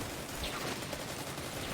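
Rapid hand cannon gunfire in the Destiny 2 video game, a steady dense fusillade of shots with battle noise throughout the short stretch.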